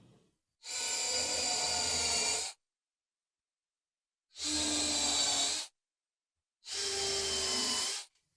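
A drill boring countersunk screw holes in a router circle-cutting jig, in three separate bursts of a few seconds each with silence between, loud and close, no talking.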